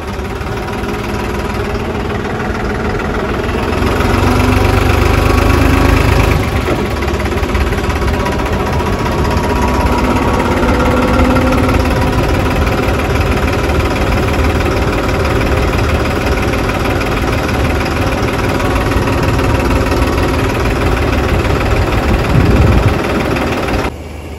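A farm tractor idles and runs steadily in a field, a low, continuous engine rumble close by with slight swells in level, heard alone without talk.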